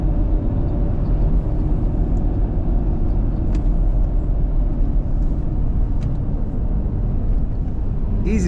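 A 2009 Toyota FJ Cruiser with a manual transmission drives down a road, its steady low engine and road rumble loud and continuous from inside the cabin, with a few faint squeaks and clicks.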